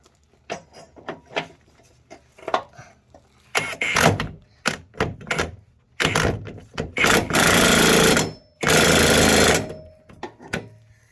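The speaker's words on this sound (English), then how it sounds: "grab your ratchet, go up top" A ratchet tightens bolts on a Cub Cadet Z Force S 48 mower deck being rebuilt with an 8ten kit: loud, close bursts of rapid clicking, short at first, then two longer sustained runs.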